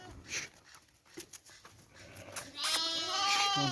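Several sheep and lambs bleat close by, with a louder sustained bleat near the end over low background noise.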